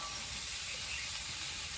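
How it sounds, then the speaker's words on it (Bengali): Green peas fry in a pan with tomato and spices, giving a soft, constant sizzle and hiss that stays even for a brief moment with no voices. "কড়াইশুটিটা দিয়ে একদম বেশি ভাজবো না শুধু কড়াইশুটির কালারটা চেঞ্জ হবে"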